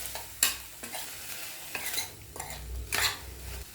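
Spoon stirring boiled white cowpeas into sautéed onions in a pan for karamani sundal, several quick scraping strokes over a soft sizzle, fairly close and moderately quiet.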